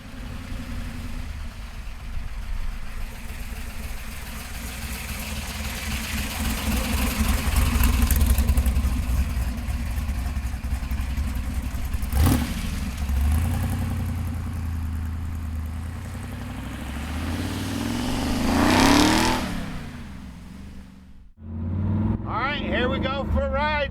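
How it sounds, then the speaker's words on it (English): A custom 1967 Ford Mustang with a Schwartz engineered frame idles with a low, steady rumble, then revs and pulls away in two swelling bursts, with a voice speaking near the end. "Here we go for a ride in this custom Mustang."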